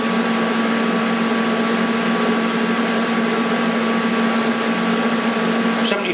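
R-Tech AC/DC 200 amp inverter TIG welder switched on, giving a steady close electrical hum with a constant fan-like whir and a thin tonal whine, unchanging throughout.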